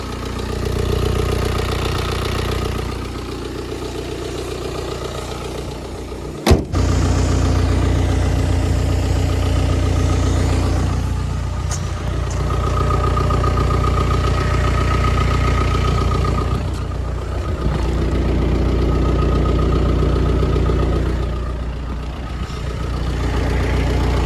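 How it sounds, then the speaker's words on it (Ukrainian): An Audi A4 B9 2.0 TDI diesel engine idles in a steady, low, even rumble throughout, with a brief sharp click partway through and no voices. "Двигун працює рівненько."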